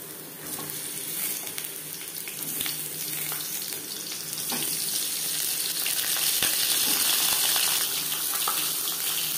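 Pointed gourds fry in two spoons of hot refined oil, giving a steady, close sizzle that swells slightly louder partway through, with faint stirring and no voices.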